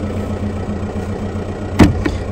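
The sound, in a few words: Seat Leon MK2 car engine running after starting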